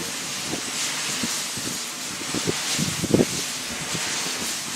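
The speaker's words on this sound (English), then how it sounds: "The sound of these wind turbines are just like wind blows through tree leaves" Turbines at a wind farm give a soft, steady whoosh like wind moving through leaves, with gusty rustling swells and a few brief rumbles.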